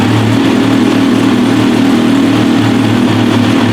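A Kawasaki Z900RS motorcycle with a Stage 2 tune idles steadily and close by, a loud, even engine drone with a constant low hum and no talk.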